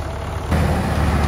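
Cropmaster tractor engine running at a steam rally, a loud close low rumble that steps up in level midway through and then holds steady.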